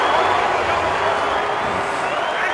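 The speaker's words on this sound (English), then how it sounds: "The crowd hates the spot." A big stadium crowd at a Steelers–Broncos NFL game roars in broad, sustained disapproval over a ball spot, a dense wash of voices filling the whole stretch at steady loudness.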